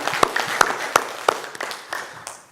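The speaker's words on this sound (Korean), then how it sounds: "하나님께 영광의 박수 올려드리겠습니다" A church congregation at a Sunday worship service breaks into applause, sharp claps landing in a loose, slowing rhythm of about eight strikes over a few seconds, moderately close in a room with no one speaking.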